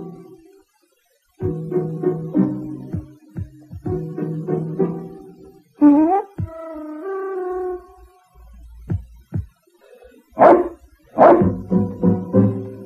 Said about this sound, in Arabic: كفك نباحا، كفك نباحا